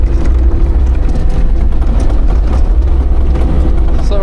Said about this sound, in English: we'll get her warmed up, get the skid loader off